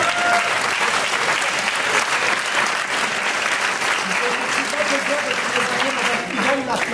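A theatre audience at Festival Fantasia gives dense, sustained applause for the full stretch, loud and even, with some voices mixed into the clapping.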